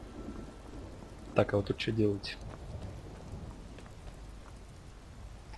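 Rain falls steadily with a low rumble of thunder in the video game Skyrim, the storm ambience continuing under a man's brief speech.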